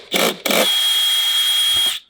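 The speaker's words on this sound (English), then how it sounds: "it's okay to use a drill" A power drill whirs close by while working on a 2020 C8 Corvette, with a short burst followed by a longer sustained high-pitched spin that winds down at the end.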